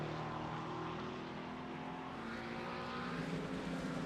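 A McLaren race car, number 404, roars steadily in a racing game, its engine note sustained and fairly loud throughout with faint shifting harmonics, no talk over it.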